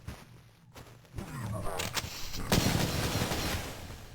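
Gunfire in a dark area of a video game erupts as a sudden loud crack, followed by a rolling burst of shots and echoing reports that fill the rest of the moment.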